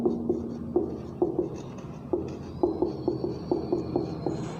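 Marker or chalk strokes on a classroom board writing out the word math, a string of short, crisp taps and scrapes in uneven bursts, close and moderately loud, with no voices.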